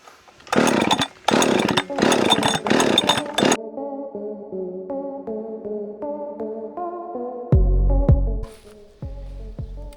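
Husqvarna 564XPG chainsaw roaring loud and close in bursts, then settling to a rough, throbbing idle with short revs and blips near the end.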